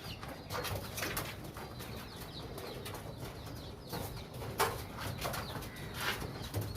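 Soft cooing and rustling from a Kasuri pigeon chick and other pigeons in a loft, faint and continuous with occasional flutters and small calls close by.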